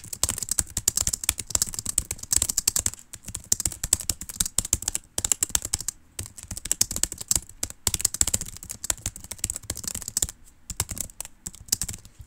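Rapid typing on a computer keyboard during a Nitro Type race produces dense, continuous bursts of close key clatter with brief pauses, and no speech.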